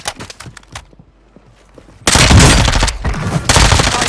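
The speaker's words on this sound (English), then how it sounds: "Friendly precision airstrike inbound." A precision airstrike in a Call of Duty battle royale match hits with a sudden, loud roar of rapid blasts and debris that holds steady for a couple of seconds after a stretch of scattered lighter shots.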